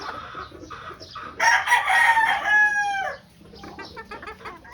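A pure white Kelso rooster with a straight comb crows loudly once, a long drawn-out call near the microphone, with scattered clucking from fowl before and after.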